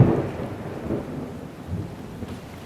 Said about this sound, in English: all the while not trying to get jump scared by this thunderstorm